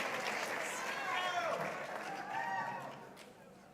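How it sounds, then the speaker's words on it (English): An audience applauds at a sheriff's office police promotions ceremony, steady clapping and crowd noise with a few voices mixed in, easing off near the end. "Let's keep the applause going for Lieutenant Carlos Lewin."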